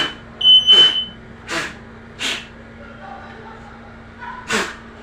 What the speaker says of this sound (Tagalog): Ah, may alarm eh.